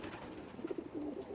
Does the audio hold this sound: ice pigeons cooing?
yes